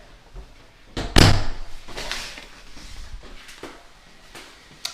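A door in a Florida home slams shut with one sharp, loud thud near the start, followed by softer handling knocks and quiet room noise.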